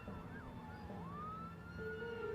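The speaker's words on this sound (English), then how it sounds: "I heard loud sirens of cop cars following us" Faint police car sirens wail in the distance, the tone sweeping up and down over a low background hum.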